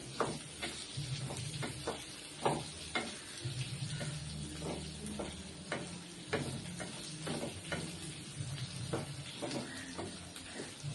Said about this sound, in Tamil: நல்லா எண்ணெயில் நல்லா வதங்குது நல்லா வதங்கணும்